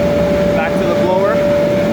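Bounce house blower running with a steady, loud, continuous whir and a constant hum, unchanging throughout.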